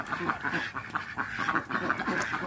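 Several young female ducks from Ubon quacking repeatedly nearby on a farm, overlapping calls in an irregular chatter with faint background noise.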